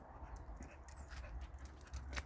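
A female dog outdoors whimpers in short, faint whines mixed with quick breathy panting, close by but quiet against soft background rustle.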